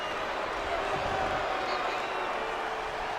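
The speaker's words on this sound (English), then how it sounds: "Crowd just going wild." A crowd in El Paso cheering and applauding as a world champion arrives, a dense continuous roar of clapping and voices filling the space, loud and sustained throughout.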